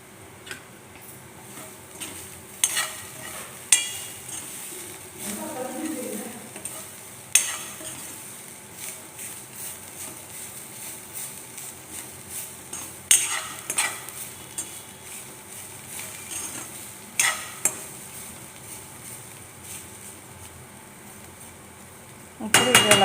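A spoon scrapes and stirs bitter gourd and onion frying in a pan, with irregular clicks and taps against the pan over a faint sizzle.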